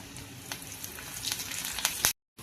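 Curry leaves crackle and sizzle in hot tempering oil with mustard seeds, cumin and chopped onion, for a bottle gourd dal. Sharp pops rise over a steady close fry, then cut off abruptly into silence.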